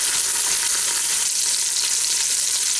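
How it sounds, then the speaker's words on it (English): A pot roast sears in an Instant Pot, giving a loud, steady, close-up sizzle of meat and juices frying, continuous hiss with no voices. "try to hold it up so it can sear a little bit on the edges before I actually start the pressure cooking in it"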